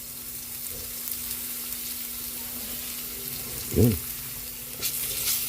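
Ginger and garlic frying in a pan, a soft steady sizzle under a low hum, with a brief clatter of stirring and a short spoken word partway through.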